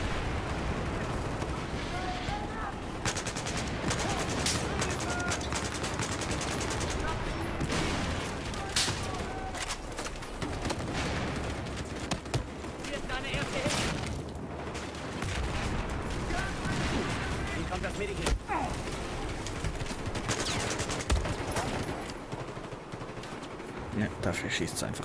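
Continuous gunfire and explosions from the video game Battlefield 4, a dense barrage of shots and blasts running nonstop, with a player's voice talking over the game audio at times.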